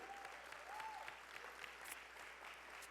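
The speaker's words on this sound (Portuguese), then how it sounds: "Aplauda aí" A church congregation applauds during an evening Sunday celebration service, a steady wash of faint, distant clapping filling the room, with a brief tonal whistle or feedback sweep early on.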